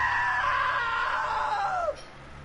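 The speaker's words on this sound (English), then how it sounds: "Now that was a great scream." A long, loud, high-pitched scream from a character in a PlayStation 4 video game holds steady for about two seconds, then slides downward and cuts off abruptly over faint background hum.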